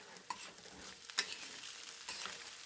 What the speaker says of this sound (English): I'm just going to add those in on top of this mixture. And then we'll just stir that in.